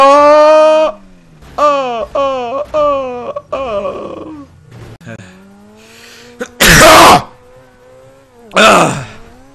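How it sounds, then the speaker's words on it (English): A loud, sharp sneeze bursts out during a GTA 5 Online gaming session, followed by a second sneeze a couple of seconds later, after drawn-out groaning and moaning vocal sounds. "I think I might just leave that sneeze in."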